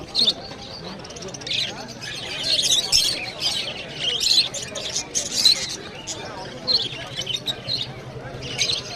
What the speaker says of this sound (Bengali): প্রচুর ধরনের লাভ বার্ড কিন্তু এসছে